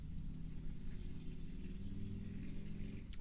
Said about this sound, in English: It's probably some asshole who thinks his truck makes him manly or something.